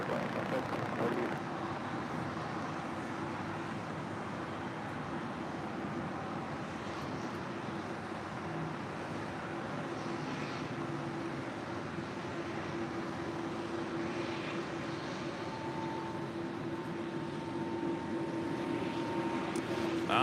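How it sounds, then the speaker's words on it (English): A Boeing 777 takes off along runway 25 left at LAX, heard as a distant steady jet roar with traffic-like background noise and faint voices underneath. "We have the 777 rolling down 25 left."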